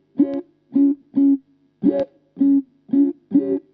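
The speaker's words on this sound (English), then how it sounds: "this pedal, is one of my favorite AutoWahs I've ever used" Seven soft electric guitar notes pass through a Carl Martin Ottawa auto-wah pedal, each with a gentle, muted vowel-like sweep and a short gap between plucks.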